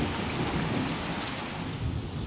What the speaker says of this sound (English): We're just going to do a little bit more storm watching.